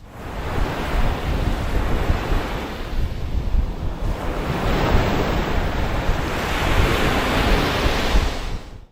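Steady surf on Turtle Beach in Sarasota, a continuous wash of waves with gusty wind buffeting the microphone throughout, no voices.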